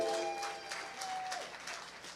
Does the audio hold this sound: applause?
yes